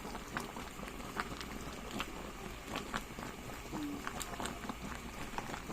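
Unripe saba bananas boil in a pot, giving a steady low bubbling and simmering texture with scattered soft pops, heard close and fairly quiet throughout.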